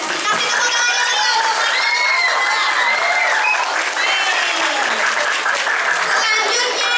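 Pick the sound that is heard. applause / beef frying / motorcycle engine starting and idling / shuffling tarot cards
applause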